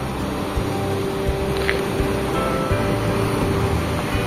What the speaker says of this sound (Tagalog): At eto na yung tabing dagat.